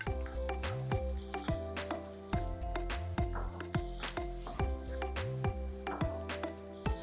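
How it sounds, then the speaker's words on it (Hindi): Four medium onions, finely chopped, sizzle steadily in a pan with ginger and garlic for a prawn pulao, while a spoon stirs them with repeated scraping clinks against the metal; no talking. "अब इसमें हम डालेंगे कटा हुआ बारीक प्याज, ये 4 मीडियम साइज के बारीक प्याज"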